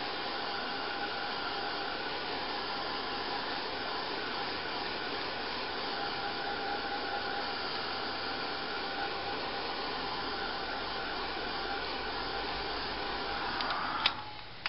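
A hair dryer blows steadily and close up for the full stretch while drying a painted tiger lily craft, with a faint bump near the end.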